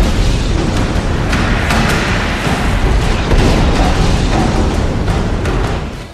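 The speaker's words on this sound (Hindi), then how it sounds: "मिसाइल लॉन्च की जाएंगी, उन्हें रोकने के लिए मिसाइल डिफेंस सिस्टम एक्टिव हो जाएंगे" Simulated war scene of missile launches and explosions, a dense continuous roar of booms and rumbling blasts, loud and unbroken, with no speech.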